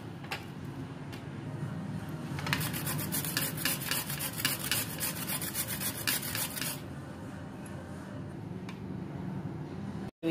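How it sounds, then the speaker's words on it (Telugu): Peeled carrots are grated by hand, a steady rasping scrape that quickens into a fast rhythmic burst of strokes in the middle before settling back to slower, softer rubbing, close and with no talk. "ఇప్పుడు మనము 3 క్యారెట్ తీసుకుని వీటిని చక్కగా గ్రేట్ చేసి పెట్టుకుందాం."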